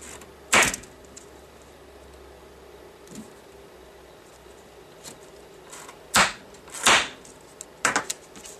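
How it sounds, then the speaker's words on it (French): A hand tool punches through two sheets of paper to set a metal eyelet for a wedding invitation, giving a few sharp separate clicks and thumps spaced across quiet pauses, with no talk. "Alors dans un premier temps je perce."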